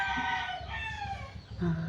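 A neighbour's rooster crows nearby among other chickens, a drawn-out harmonic call sounding continuously against a low background rumble.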